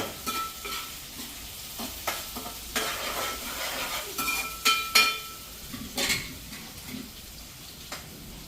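Onions fry in a pan with a steady sizzle, broken by frequent scraping stirs and a few clinks of a utensil against the metal.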